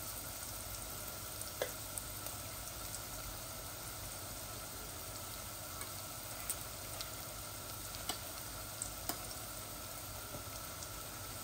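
Chicken breast frying in a pan with chili spice mix, a steady soft sizzle running throughout with faint occasional clicks, no voices.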